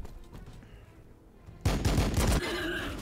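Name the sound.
bolt rifle gunfire in video game Warhammer 40K: BattleSector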